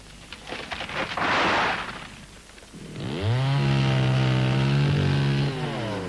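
A chainsaw revs in a short burst, drops back, then settles into a loud, steady whining drone close by.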